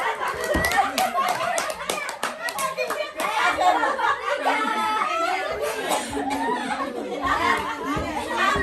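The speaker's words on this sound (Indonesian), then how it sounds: "Oke, tepuk tangan." Parents at a child-development and stunting-prevention session break into brief hand clapping, quick claps mixed with chatter, chuckles and children's voices.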